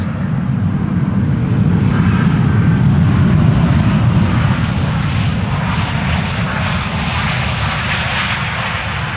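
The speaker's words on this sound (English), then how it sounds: "One of the few airplanes today that we are actually hearing applying their reverse thrust." A Vueling airliner applies reverse thrust after landing, a loud, sustained jet roar that stays broad and powerful throughout before easing slightly near the end.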